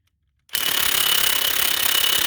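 A Milwaukee Fuel or Ridgid Octane cordless impact wrench hammers on a vehicle axle nut, starting abruptly after brief silence and continuing as a loud, rapid, steady rattling burst, close up.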